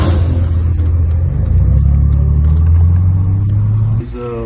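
A turbocharged BMW E36 makes drive-bys next to another car, a loud engine drone that builds and then suddenly drops away, under someone speaking over it.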